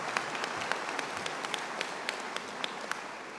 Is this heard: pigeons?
no